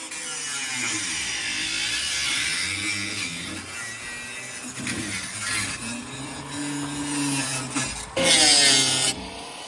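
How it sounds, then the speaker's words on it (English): A cutting tool saws through the muffler on a 1955 Chevy suspected of being plugged, giving a continuous, wavering grinding whine for nearly ten seconds with a sharper burst near the end. "Cutting the muffler off it because I think it's plugged"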